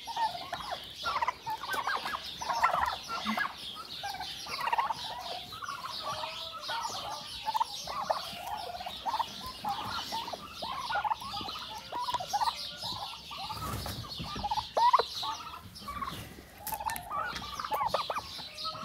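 A flock of tom and hen turkeys fills the air with continuous, overlapping gobbles and clucks. The calls are close and busy, with some low rustling and a brief thump partway through, and no talking.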